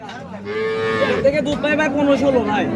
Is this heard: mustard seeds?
no